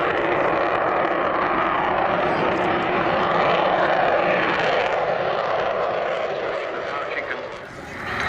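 Military jet aircraft accelerating at the Southport Air Show, a slippery, low-drag airframe, producing a loud, sustained broadband roar that holds steady before dipping briefly near the end, with a commentator's voice over the public address.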